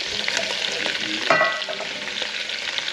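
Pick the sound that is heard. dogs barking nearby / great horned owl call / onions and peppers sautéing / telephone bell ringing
onions and peppers sautéing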